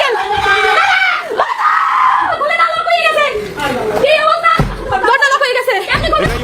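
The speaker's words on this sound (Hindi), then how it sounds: "ये महिला चिल्ला रही थी" A woman screams and cries out loudly during an attack on Hindu homes in Bangladesh, with several voices yelling and chattering around her in a tense, close crowd.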